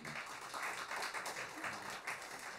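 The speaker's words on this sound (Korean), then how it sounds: "다시 한번 좋은 말씀해 주신 한정택 감독님께 박수 부탁드리겠습니다" Audience applause at a Korean traditional music gathering after a director's talk, a steady wash of many hands clapping at a distance, fairly faint, with no talk over it.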